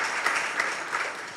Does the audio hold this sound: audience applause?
yes